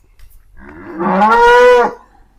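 A dairy farm cow lets out a single loud, drawn-out moo close by, rising and holding for about a second before cutting off, with no talk around it.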